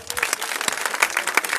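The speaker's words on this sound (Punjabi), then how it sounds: "ਤੁਸੀਂ ਤਾੜੀਆਂ ਹੋ ਜਾਣਾ ਇਸ ਗੱਲ ਤੇ" A seated audience at a Punjabi cinema discussion panel breaks into applause, a brisk, dense burst of many hands clapping close together for under two seconds, with no voices over it.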